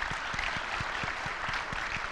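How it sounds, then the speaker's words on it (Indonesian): An audience at an Indonesian televised contest event claps steadily. The applause is dense and even, fairly faint and distant, with no voices over it. "kita berikan tepuk tangan"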